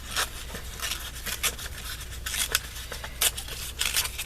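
Scissors trimming cardstock, a run of crisp snipping cuts in an uneven rhythm, close and fairly loud with no talk.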